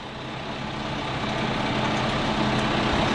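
A shuttle-shift farm tractor's engine runs steadily on a winter cattle-feeding job, a dense, even rumble that swells slightly louder over a few seconds.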